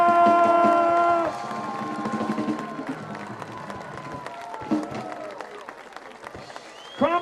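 An outdoor beach crowd at the 2014 National Sandcastle Competition awards on Revere Beach cheers and claps for the winner, a loud tonal blare opening over a scattered, lively mix of clapping and shouts.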